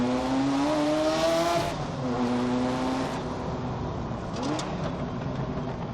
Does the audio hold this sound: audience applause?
no